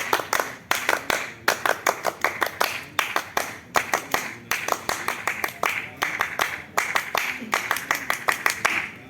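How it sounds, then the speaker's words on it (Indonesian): A scout group claps a rhythmic scout clap pattern three times in a row, sharp bursts of many hands in a tight repeating rhythm, close and loud, with some voices mixed in. "Kita tes dulu 3 kali tepuk pramuka."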